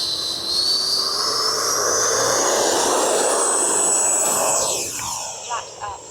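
A Freewing F9F-8 Cougar 80mm electric ducted-fan jet RC plane takes off with a loud, steady high-pitched whine that rises and then fades as it climbs away. Voices talk outdoors alongside.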